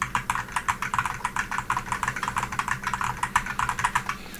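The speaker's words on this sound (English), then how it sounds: "I'm going to type really quick on my keyboard so you can see what the background noise sounds like." Rapid typing on a computer keyboard, a steady stream of sharp, close key clicks with an irregular rhythm and no talking.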